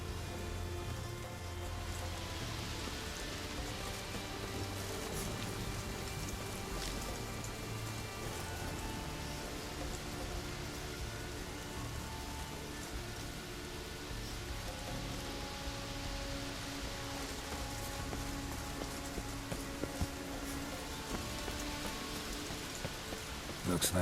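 Rain falls in The Witcher 3: Wild Hunt, a steady hiss of drops pattering on surfaces while a soft game music bed plays underneath, continuing evenly throughout.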